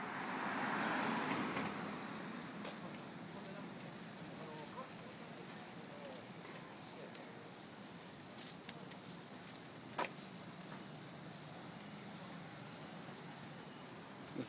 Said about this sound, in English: Let's just listen to the crickets.